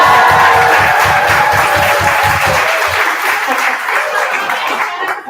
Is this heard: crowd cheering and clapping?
yes